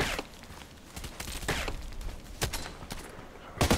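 Scattered sniper-rifle shots in an online shooter game ring out as sharp, loud cracks at irregular intervals, with a heavier double report near the end, over quiet background noise.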